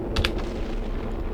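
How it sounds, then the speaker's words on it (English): Explosions burst through a Geometry Dash-style video game level, with two sharp blasts near the start over a steady, dense wash of game music and rumble. "with all those explosions, sounds like we've entered World War II right now"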